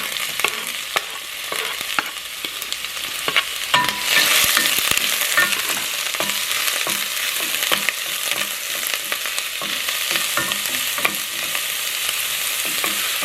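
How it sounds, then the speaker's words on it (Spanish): Chopped onion sizzles in a hot frying pan as it is stirred, a steady close crackling hiss that swells for a moment partway through, with scraping stirs and no talking. "Ya que tenemos la cebolla picada, la agregaremos al sartén."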